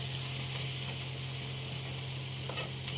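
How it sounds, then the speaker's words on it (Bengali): Chopped onion goes into hot oil in a pan, giving a steady, moderately loud hiss and crackle that runs throughout with small pops, with no talk over it. "এইবারে পেঁয়াজ কুচিটা দিয়ে দেবো"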